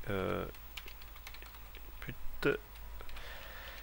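Code typed on a computer keyboard in short bursts of key clicks, close and moderate in level, with someone speaking French between the bursts.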